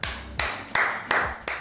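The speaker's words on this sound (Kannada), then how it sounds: "ನೋಡಿರಿ ಚಪ್ಪಾಳೆ" Five sharp hand claps in an even, quick rhythm, close and fairly loud, with no voices between them.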